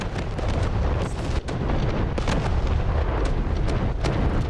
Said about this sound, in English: all of the magazines exploded